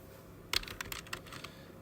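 Typing on a computer keyboard: a quick run of about eight light key clicks after a brief quiet start, close and fairly soft, with no talking.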